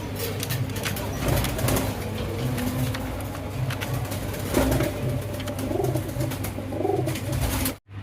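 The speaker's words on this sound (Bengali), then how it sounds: "এগুলো বেবি কবুতর" Fancy pigeons, including baby birds, coo steadily in a pigeon seller's shop, a soft repeated low murmur from several birds close by over traffic-like background hum.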